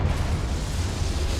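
Explosive Confringo spell blast in the video game Hogwarts Legacy: a loud, sustained roaring boom with heavy low rumble that holds steady through the whole short moment.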